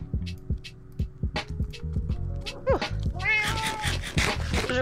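A wraith mob in the Minecraft modpack Enigmatica 2 makes repeated cat-like meows and wails over a steady pulsing game background and scattered thuds.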